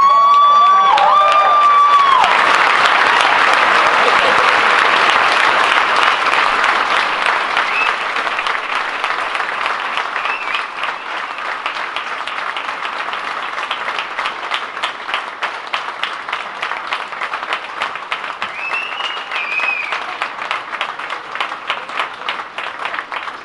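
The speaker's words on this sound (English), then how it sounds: "So one more round of applause" A large crowd applauds loudly, with a few whistles and cheers at the start. The clapping softens slightly and carries on steadily to the end.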